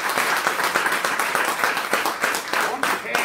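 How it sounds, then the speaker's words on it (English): A crowd at a community business celebration claps steadily, a dense patter of many hands close by, with a voice speaking over it. "you need to give yourselves a round of applause"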